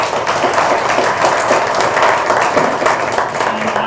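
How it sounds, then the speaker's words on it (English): Steady applause fills a symposium hall for a big data analytics speaker, a dense even wash of clapping from a sizeable audience with no voices on top, holding at a constant level throughout. "can I have another round of applause for this gentleman?"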